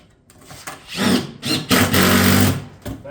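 Power tool driving lag bolts through a mount into pre-drilled holes and caulking on a shake batten siding panel, heard as two or three short bursts of whirring and straining drive, up close and fairly loud.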